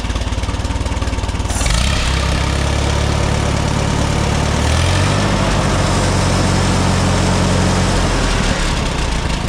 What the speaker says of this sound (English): I ought to run that D-17 a little bit, get that manifold hot